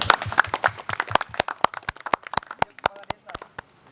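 A small audience claps for participants at an evening learning event in Indonesia, a sparse run of sharp individual claps close by that thins out toward the end, with a voice faintly present underneath.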